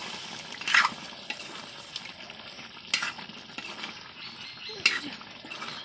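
Mutton curry cooks in a small wok with a soft steady sizzle and bubbling, broken by a few sharp scrapes of a stirring spoon, fairly faint and close.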